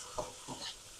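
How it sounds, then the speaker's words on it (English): Onions and vegetables hitting a hot pan during a chicken stir-fry, two soft stirring scrapes with a faint sizzle behind them, quiet and close. "Throw in our onions as well."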